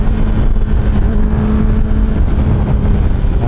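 A Kawasaki ZX10R sport motorcycle engine runs loud and close, with a steady high-revving drone that holds throughout and no one talking.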